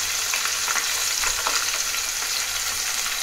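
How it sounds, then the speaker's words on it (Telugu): Corn kernels frying in hot oil, giving a dense, steady crackling sizzle with faint stirring, close and continuous. "ఆయిల్ వేడయ్యాక కార్న్ వేసేసుకొని ఫ్రై చేసుకోవడమే"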